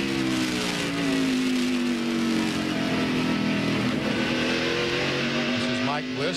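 A NASCAR stock car at the 1999 NAPA AutoCare 500, heard from an onboard camera: a loud, continuous engine roar whose pitch rises and falls gently as it holds speed, with no break in the drone.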